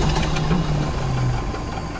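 An aircraft propeller engine running during an RPM adjustment, a steady close mechanical drone with a low rumbling throb and no voices.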